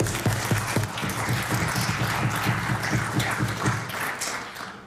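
Members of a legislative House of Assembly applaud in the chamber, a loud, dense round of clapping with some distinct close hand claps and desk taps standing out against a low steady hum.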